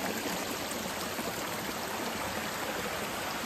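Clear spring water flows in a small stream in a ravine on a rural ranch, a steady close rushing babble with no voices.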